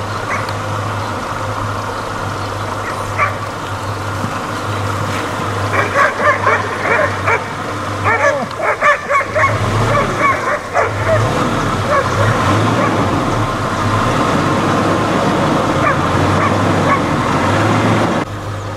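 A dog barks repeatedly while herding bulls outdoors, the yips and barks coming in bursts over a constant low engine-like hum, moderately distant, with faint background voices.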